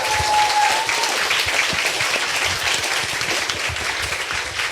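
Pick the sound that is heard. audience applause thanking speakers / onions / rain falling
audience applause thanking speakers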